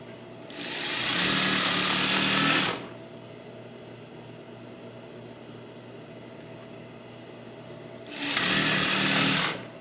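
Sewing machine stitching the front of a pair of jeans to the back: two loud, steady runs of rapid motor-driven stitching separated by a quieter pause of about five seconds, close up with no talk.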